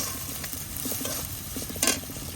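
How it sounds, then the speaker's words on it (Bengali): Onions and chillies sauté in oil in a pan, a continuous close sizzle with rhythmic scraping strokes of stirring and one louder clatter near the end. "এই যে পেঁয়াজ আর মরিচটা একটু বাদা বাদা করে নিচ্ছি"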